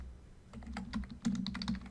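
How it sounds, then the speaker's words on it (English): Quick keystrokes on a computer keyboard as names are typed in, a run of light clicks in short bursts that grow louder and denser toward the end, with no voices. "and just simply type in the names."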